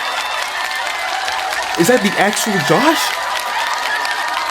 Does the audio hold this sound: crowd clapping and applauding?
yes